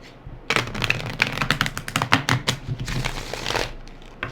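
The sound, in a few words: shuffling a tarot card deck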